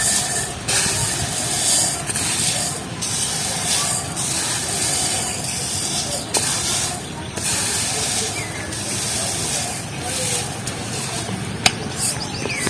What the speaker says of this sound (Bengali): আর এটা কিন্তু আমি মিক্সি করে নেবো, সর্ষেটা গুঁড়ো করে নেবো।